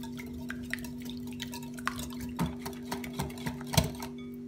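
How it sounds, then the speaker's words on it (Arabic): Sugar, vanilla and salt stirred together in a bowl for milk pancakes, heard as faint, irregular light taps and clinks over a steady background hum. "حط السكر، الفانيلا والملح، بخلطهم منيح مع بعض"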